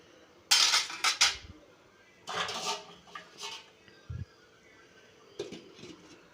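Metal clinks and clatter of a lid being placed on a pot of egg kurma come in short bursts with pauses, ending with one more light clank.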